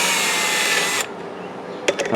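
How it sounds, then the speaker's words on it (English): A small electric drill spins loosening the rear sprocket nuts on a Kawasaki ZH2 motorcycle, a steady close whir for about a second that cuts off, followed by a few brief clicks and rattles. "I'm just going to use my small electric drill"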